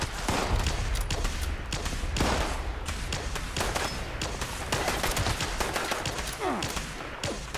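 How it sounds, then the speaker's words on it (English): Enemies open fire in Fallout 76 with sustained bursts of automatic gunfire and scattered single shots, loud and continuous across the whole stretch, mixed with thuds and impacts, with no talk over it. "Oh, they are shooting at me, I guess."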